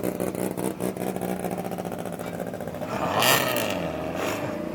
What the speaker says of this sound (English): There's all these rally cars everywhere.